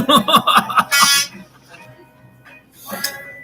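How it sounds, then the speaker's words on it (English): A semi truck's horn honks in a quick run of short, loud, brassy blasts, then pauses before one more honk, with some vocal noise mixed in. "Honking the horn of a semi."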